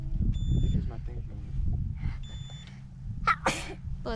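A person sneezing sharply once or twice near the end, preceded by indistinct voices and low background noise, with short electronic beeps mixed in.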